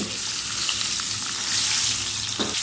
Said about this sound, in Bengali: এবারে ডিমগুলো উল্টে পাল্টে তেলের মধ্যে খুব ভালো করে ভেজে নিতে হবে।